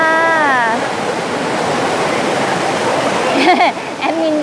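Phlio waterfall in Chanthaburi sends up a steady, full rushing roar of falling water, while a voice talks briefly over it at the start and again near the end.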